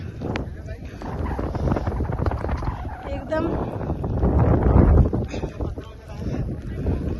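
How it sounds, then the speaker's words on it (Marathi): Strong wind on a Maharashtra hill station buffets the microphone in a continuous roaring rush, rising and falling in gusts, with a voice speaking briefly underneath. "इथं वारा सुटलाय"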